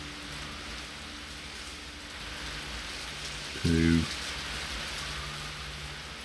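Rain falls in a video game as a steady hiss, with a voice briefly counting over it partway through.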